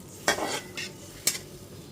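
A lid set onto a pan of frying masala for a pabda fish curry, two quiet metallic clinks about a second apart over a faint low sizzle.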